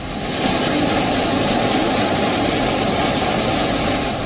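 Russian fighter jets fly behind a surveillance aircraft, a loud, steady jet roar that swells in at the start and holds without a break, with no talking.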